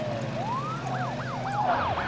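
Ambulance siren in the video game SimCity, a rising wail that turns into a rapid repeating yelp over low city traffic hum, steady and fairly close.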